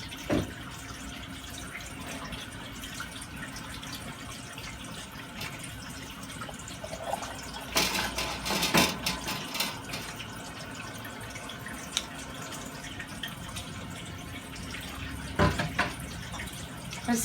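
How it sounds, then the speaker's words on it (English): Hot water running steadily from a kitchen tap into a sink during home canning, a continuous splashing flow with occasional louder gushes and drips, close and unaccompanied by talk. "I'm going to add more hot water. So I'm on my hot water tap."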